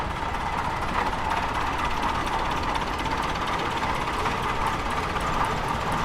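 A 1948 Farmall Cub tractor running at a threshing bee parade: a steady engine drone with mechanical clatter and rattling, continuous and fairly close, with no talk.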